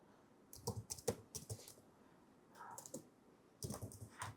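SQL code is typed on a computer keyboard in short bursts of quick, soft key clicks separated by pauses, close and quiet with no talk.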